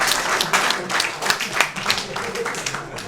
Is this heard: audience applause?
yes